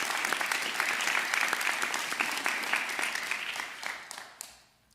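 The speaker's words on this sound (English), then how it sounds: "Let's give them a round of applause as well." An audience at a college honors cording ceremony breaks into applause, a sustained wash of many hands clapping at moderate distance that fades out over the final second.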